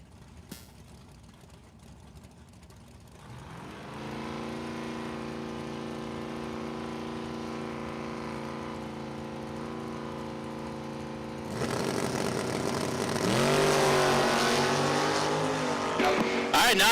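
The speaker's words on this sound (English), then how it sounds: "that's a good drag race between those two" Drag race cars launch down the strip at a dragway during a Friday bracket event, engines building from idle to a loud sustained roar that swells further as they pull away.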